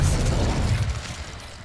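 Expelliarmus disarming spell in Hogwarts Legacy: a short, loud booming burst with a bright crackling edge that decays quickly over about a second and a half, with no voices.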